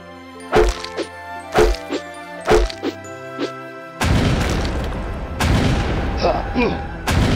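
Ranged attacks exchanged between units in the fantasy strategy game Battle for Wesnoth: several sharp thwacks and impacts in an uneven rhythm, followed by a louder sustained crashing burst that fades toward the end.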